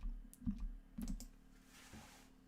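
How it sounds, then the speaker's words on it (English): A few keystrokes and mouse clicks on a computer keyboard, faint and close, as a password is entered and sign-in is clicked, with no talking. "I would just enter my Exchange password or my Microsoft password and click sign in"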